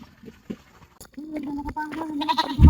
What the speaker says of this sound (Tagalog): Ang kambing ko.